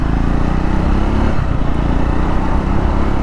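A Triumph Speed 400 or Scrambler 400 X motorcycle pulls hard along a road with a loud, steady, close engine drone that holds throughout the short stretch, with no voices.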